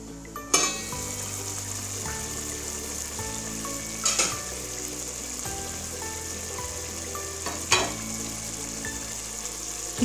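Shrimp and zucchini curry simmering in a pan, a soft continuous sizzle broken by a few sharp spoon scrapes and clinks as it is stirred, with no talking.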